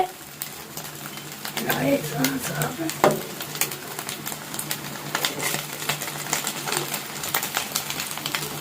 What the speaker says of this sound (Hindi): ये अंडा यान भाई ने अंडा फ्राई कर लिया